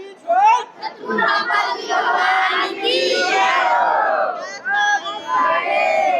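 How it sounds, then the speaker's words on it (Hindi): A huge crowd at a religious gathering at an ashram in Betul chants slogans in loud, unison call-and-response bursts that swell and fall without pause, close and dense. "तो देख पा रहे हैं यहाँ पर नारे भी लगाए जा रहे हैं।"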